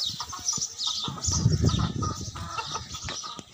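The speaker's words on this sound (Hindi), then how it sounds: "ये देखो ये मुर्गियाँ हैं मेरी, असील मुर्गियाँ।" Aseel chickens cluck repeatedly from close by in a farmyard pen, with a steady stream of short, overlapping calls and some scratchy movement under faint chatter.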